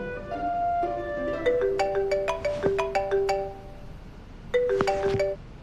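A mobile phone rings for an incoming call with a bright melodic ringtone of rapid plucked notes. It plays loud and close for several seconds, pauses briefly, then starts again.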